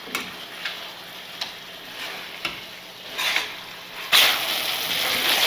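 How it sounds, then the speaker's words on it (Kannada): Chicken pieces frying in masala and a little oil for a country-chicken biryani, a soft sizzle with repeated stirring clicks and scrapes, louder toward the end. "1-2 ನಿಮಿಷ ಈ ರೀತಿ ಸ್ವಲ್ಪ ಎಣ್ಣೆಲೇ ಬೇಯಿಸ್ಕೊಳ್ಳೋಣ"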